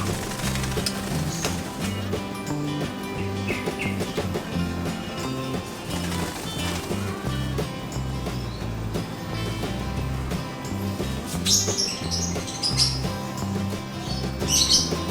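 A pet sun conure parrot named Mango sunbathing outdoors gives scattered sharp chirps and squawks over a busy, crackly, sizzling background, with music or other noise underneath throughout.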